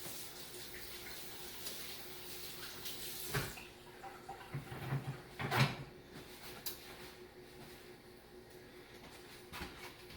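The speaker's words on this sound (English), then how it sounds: "I'm going to rinse off my hands real quick." Hands rinsed under a running kitchen tap while making no-knead artisan bread: a steady low wash of flowing water, with a few louder splashes and clunks near the middle.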